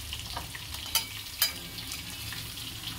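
Spices with salt and turmeric frying in a pan while being stirred, a soft continuous sizzle broken by two brief sharp scrapes of the utensil, close by and without any voices.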